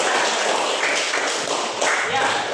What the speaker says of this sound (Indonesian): tepuk tangan untuk Maudi.